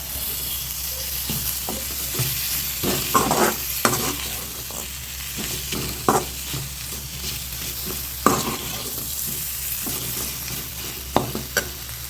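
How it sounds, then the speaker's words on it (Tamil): Dried koduva fish stir-fried in oil for karuvadu thokku, with a continuous sizzle and repeated spatula scrapes and taps against the pan at an uneven pace, close up and without voices. "இப்போ இந்த கருவாடையும் இதிலே போடலாம். நல்லா அப்படியே வதக்கி விடுங்க அந்த கருவாடை போட்டதில்."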